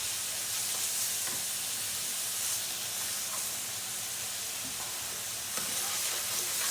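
Mince simmering in a pan as part of cooking mince pies, a steady, faint hissing sizzle with occasional soft crackles.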